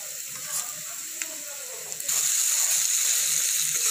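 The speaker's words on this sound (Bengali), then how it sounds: "এবারে আদা রসুন আর কাঁচা লঙ্কা গ্রেট করে নিয়েছি, ওগুলো অ্যাড করে দেব।" Grated ginger, garlic and green chilli hit hot oil in a pan for egg fried rice, with a loud sizzle surging up about halfway and holding steady. Light kitchen noise comes before it.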